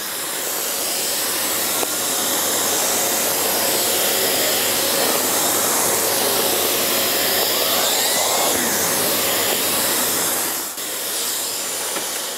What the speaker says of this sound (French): plutôt que de passer plusieurs fois en appuyant avec une brosse normale, la turbobrosse va vraiment vous aider